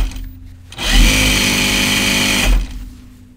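A sewing machine runs in one continuous burst of about two seconds, stitching Ginger jeans with a steady whirring hum, starting and stopping cleanly amid quiet room noise.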